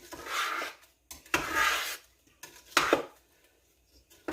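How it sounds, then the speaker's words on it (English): A spoon stirs and scrapes frozen strawberries in a pot while making jam, in several rough, rasping passes separated by short pauses, close and fairly loud. "You just keep stirring it."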